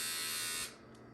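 A Krovena women's electric shaver buzzes loudly at close range as it glides over dry skin, a steady high whine that suddenly drops in pitch and level partway through as it lifts off.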